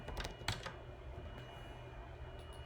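A few quick keystrokes on a computer keyboard come in a short burst, close and faint, followed by quiet.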